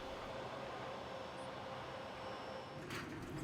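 A Grand Canyon Railway passenger train backing slowly into the station at Williams, a low steady rumble and hum with faint mechanical clanks and a brief hiss near the end, heard from a moderate distance.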